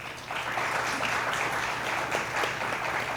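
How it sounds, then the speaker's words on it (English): A crowd applauds for the Meridian Junior High team at a junior quiz bowl competition, a steady wash of clapping that holds at one level throughout, with a low hum beneath. "give a nice round of applause for Meridian Junior High"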